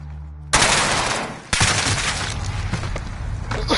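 MP5 submachine gun firing in the Modern Warfare video game, two loud bursts of rapid automatic fire separated by a brief pause, close and sharp.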